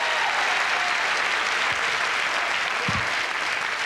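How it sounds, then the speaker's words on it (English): Comedy club audience applauding a young comic's set, a dense, steady wash of clapping that holds loud and even for the whole stretch, with a couple of low thumps near the end. "Give him another round of applause."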